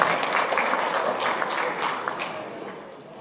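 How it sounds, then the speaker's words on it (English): A church congregation applauds the choir in Roanoke, Virginia, a dense, continuous wash of clapping that fills the room and tapers slightly toward the end. "Let's give them a round of applause."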